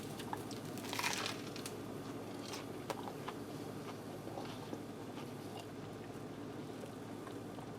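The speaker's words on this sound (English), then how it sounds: "First off, you get the crunch of the sourdough bread." Crisp crunching bites into a toasted sourdough corned beef melt sandwich with tomato, close up, with a few sharp crackles early on over a soft steady background and no talking.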